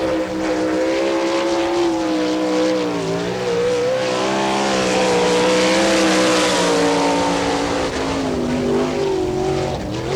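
Brad Furr's 2F sprint car laps a dirt track at Wichita, Kansas, its loud engine roaring steadily and close, the pitch rising and falling as it powers through the turns, with no break in the sound.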